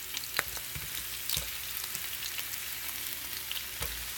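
Fish goes into vegetables already cooking in a pan for Bicolano paksiw, giving a dense, even sizzle with a few brief clattering knocks.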